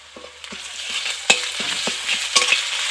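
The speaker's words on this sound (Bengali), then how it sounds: "আমি পেঁয়াজ ও আদা রসুন একটু ভালো করে ভেজে নিয়েছি" Onion with ginger garlic paste fries in a pan, a close sizzle punctuated by frequent scraping stirs and two sharper clanks of the spatula, with no voices.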